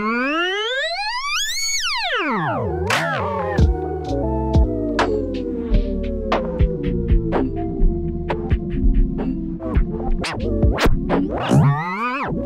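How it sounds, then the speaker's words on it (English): The Transit 2 audio plugin applies a slowdown effect with inverted pitch, so the sound rises in pitch as it slows: sweeping synthetic tones glide upward, then drop into a low throbbing drone broken by scattered clicks and bursts, steady and alone. "as it slows down, the pitch goes higher, which is the opposite of what normally happens."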